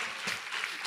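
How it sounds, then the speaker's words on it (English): An audience at a youth leadership summit at a Malaysian university applauds, a brief, soft, continuous patter of many hands without distinct individual claps. "Give a big applause."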